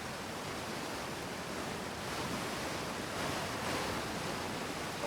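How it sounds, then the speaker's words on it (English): Loud waterfall in the video game Outer Wilds, a steady roaring wash of falling water that holds constant and close with no other sounds. "Loud waterfall."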